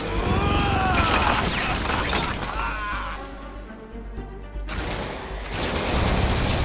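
Minigun enemy in Marvel's Spider-Man game firing sustained, loud rapid bursts of gunfire with shattering impacts and mechanical clatter, continuous over the clip with a brief dip near the middle.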